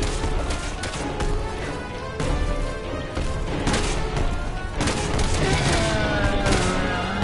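Gunfire in the video game Resident Evil 6, dense and continuous bursts of shots and impacts layered over a loud game soundtrack, without a pause across the whole stretch.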